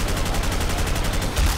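Rapid automatic gunfire in the zombie shooter Left 4 Dead 2, a loud rattling burst of evenly spaced shots that runs through the whole moment with no talking over it.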